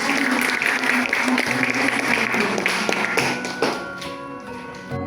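Audience applause at a book review event, a dense, steady patter of many hands clapping for about five seconds over a faint tonal background, thinning slightly toward the end.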